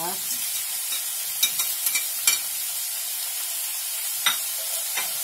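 Bean sprouts and tofu stir-frying in a pan, a steady bright hiss of frying broken by light, scattered scrapes and taps of the spatula as the mix is stirred.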